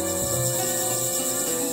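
Fighting crickets in China chirp in a loud, continuous, high trill that keeps a steady pulse throughout, close and unbroken, with no voices.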